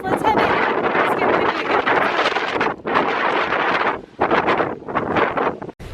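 Strong wind from a 100 mph windstorm roars and buffets against the microphone in loud, gusting bursts separated by brief lulls.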